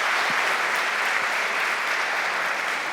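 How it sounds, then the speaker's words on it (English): An audience at a tech conference talk applauds, a steady, full burst of many hands clapping together at even loudness. "thank you for applause."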